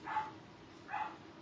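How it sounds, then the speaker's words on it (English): Dogs bark in the background of a home craft session, two short muffled yaps spaced nearly a second apart, faint and somewhat distant. "sorry about the dogs"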